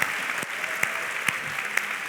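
Applause from a church congregation during a worship service: a dense, even wash of clapping that holds steady throughout, with a few sharper claps standing out.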